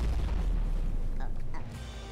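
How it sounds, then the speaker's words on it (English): Loud, dense barrage of overlapping explosions in the video game Burning Knight, deep rumbling booms piling up continuously, then thinning slightly toward the end. "There's so many explosions happening at once."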